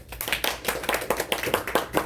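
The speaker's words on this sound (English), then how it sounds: "let's give him a round of applause" A small audience at a mentoring session claps after a home alarm project presentation: distinct, fairly rhythmic hand claps from a few people, close by, with no talking.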